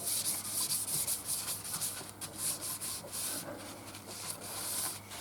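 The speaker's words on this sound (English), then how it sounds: "The sanding regime of going through the grits is no different to what it would be ordinarily or normally." Sandpaper rubs across a wooden bowl in quick back-and-forth strokes, producing a soft, steady scratchy hiss with rhythmic bursts, close and quiet, with no talk.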